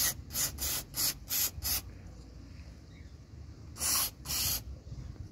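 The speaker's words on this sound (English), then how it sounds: "Take my brake cleaner," Short bursts of brake cleaner sprayed onto a Golf Mk1 piston: five rapid hissing blasts in a quick row, a pause, then two longer sprays, close and fairly loud against a quiet background.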